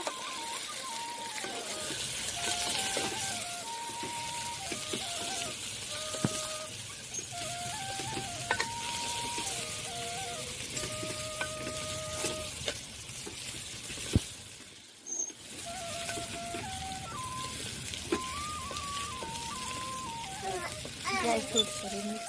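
Rice is stirred in a pan over the stove while making sweet chamre, giving a continuous faint sizzle and scraping under background music, with a brief drop in the middle.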